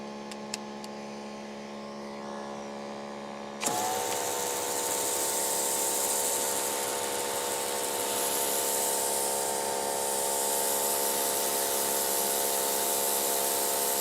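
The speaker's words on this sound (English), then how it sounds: "I'm still impressed with how quiet this motor is while we're doing all the pressure washing" A Greenworks 3000 PSI electric pressure washer starts up after a low hum, then runs with a steady loud motor whine and hissing water spray that continues unchanged to the end.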